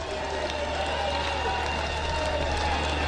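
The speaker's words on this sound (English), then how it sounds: "Let's all stand up and clap for Bangati." Crowd of people clapping at an NRM parliamentary retreat gathering, a steady continuous rush of applause throughout, with a low constant hum underneath.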